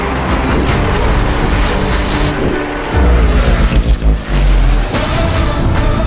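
Karts race in the video game Nickelodeon Kart Racers 2 with loud, dense engine roar and rumbling bursts, layered with busy game sound effects and no voices.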